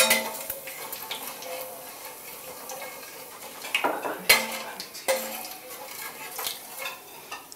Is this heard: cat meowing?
no